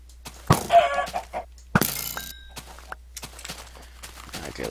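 In Minecraft, a chicken clucks in a few short bursts, close and clear, mixed with blocky game thuds and breaking sounds in an otherwise quiet scene.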